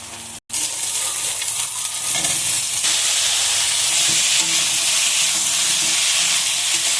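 Drumstick stalks and potatoes stir-fried in spice masala for a home-style pond fish curry, a steady close sizzle with scraping stirs and a brief dropout near the start, no talk.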